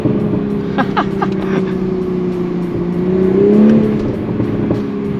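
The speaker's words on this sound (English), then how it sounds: "If you just let off without it shifting, it'll pop" A stock MK5 Toyota Supra in sport mode lifting off the throttle, its steady engine drone swelling briefly and then crackling with a few quick exhaust pops, heard close from inside the cabin.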